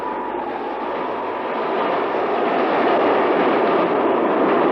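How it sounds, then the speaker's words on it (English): A train roars past nearby, its loud broadband rush swelling gradually over a few seconds with a faint rhythmic clatter; no talking. "There's a train coming."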